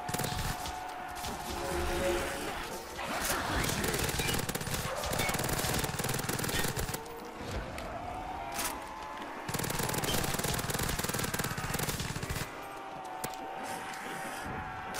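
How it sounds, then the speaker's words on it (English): Sustained automatic fire from the UGX PP Bison submachine gun in Call of Duty custom zombies on a Hogwarts map, loud rapid bursts separated by brief gaps, with voices talking over it. "This gun's called the UGX PP Bison."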